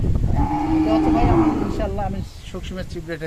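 Cows and calves at a cattle market in Dinajpur give a loud, drawn-out moo at close range, then a second, shorter lowing call, with a voice partly mixed in.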